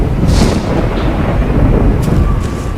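A lightning strike in the DayZ game on Namalsk island brings a loud, close crack of thunder that becomes a heavy, rumbling boom filling the whole moment, with no voices over it.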